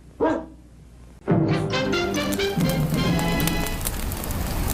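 A dog gives a single short bark, then a louder burst of barking follows over a busy, noisy background.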